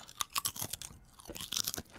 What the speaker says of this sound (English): Yeah, this is the actual potato chip sound.